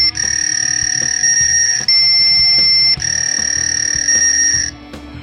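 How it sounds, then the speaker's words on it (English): A handheld electronic sound effects toy plays a fax machine sound: loud steady electronic tones held in long beeps with brief breaks between them, ending abruptly. "Fax machine."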